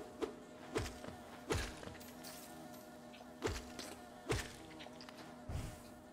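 Bee enemies buzz in Hollow Knight as a faint, steady low drone, broken by a few soft, regularly spaced thuds, with no talking.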